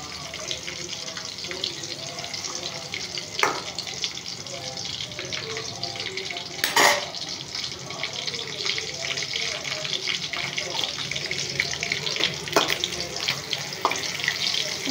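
Gongura chutney ingredients frying in a hot pan give a steady sizzling crackle throughout, with a few sharp clinks and scrapes scattered across, and faint voices in the background.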